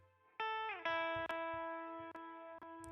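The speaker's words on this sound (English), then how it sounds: "we're gonna add some reverb to make it sparkle a little bit." Synth or guitar notes in a pop-style beat ring out with a heavy reverb tail, each struck tone sustaining and blurring into the next across several hits.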